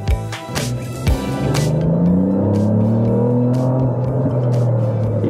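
A Ford Fiesta ST engine pulls hard on a race track, its note rising smoothly through the revs after a few sharp clicks and thumps, loud and close with no voices over it.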